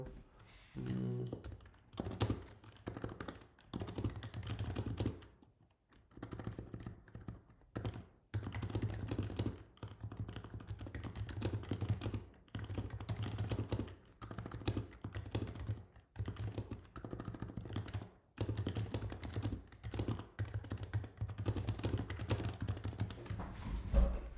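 Typing on a computer keyboard during software planning: continuous close clattering keystrokes in bursts with brief pauses, steady and fairly quiet, with no speech.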